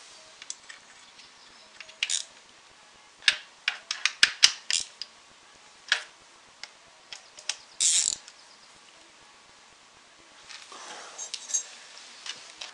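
A hand ratchet clicks in short bursts while tightening 13 mm nuts on the alternator mounting studs of a 1995 Renault Twingo engine, with metallic taps and clinks between; close and sparse, no talk.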